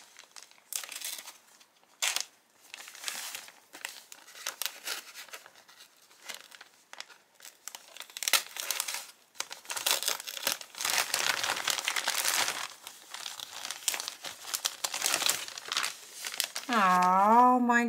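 Wrapping paper crinkles and rustles in irregular bursts as a mailed gift is unwrapped during a holiday card and happy mail exchange. A voice talks over the handling, and a brief chiming tone rises near the end.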